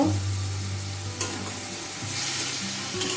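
Bitter gourd frying in a pan with salt and turmeric, being stirred: steady close sizzle with scraping stir strokes and a brief utensil clack partway through, no talking.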